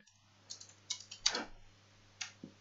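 Calculator keys pressed one at a time while solving an exponential equation, a few soft, close clicks spaced irregularly in a quiet room, with no talk.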